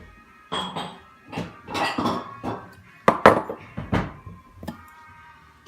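Dirty dishes clatter and clink in a household kitchen, a run of loud, close bursts of ceramic and metal knocking, irregular and fairly busy, with no voices over them.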